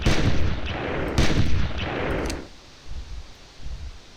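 Several close, loud gunshots crack in quick bursts while shooting at a dinosaur in the hunting game Carnivores+, then fade into quieter background rustle.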